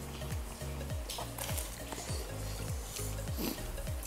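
Vegetable risoles frying in a pan of hot oil, with a steady sizzle and periodic stirring or scraping sounds, close and moderately quiet with no voices.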